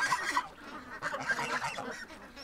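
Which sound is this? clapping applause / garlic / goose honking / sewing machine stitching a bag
goose honking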